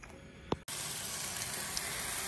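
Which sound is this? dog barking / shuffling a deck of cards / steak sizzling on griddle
steak sizzling on griddle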